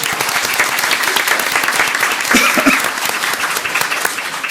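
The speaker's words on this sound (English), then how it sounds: "let's give another big applause" People at a Pasadena ISD school board meeting give loud, continuous applause. The dense clapping holds steady for the whole stretch, with no voices breaking through.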